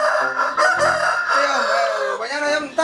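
Chickens cluck and crow close by, a rising, wavering fowl call with busy overlapping clucks, loud and clear over about three seconds.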